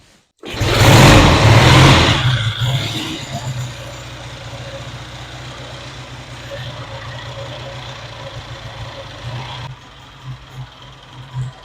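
A Triumph T100 pre-unit motorcycle engine bursts out loud at first, then settles into a steady, quieter idle that runs near and alone for several seconds before cutting off and fading to near silence.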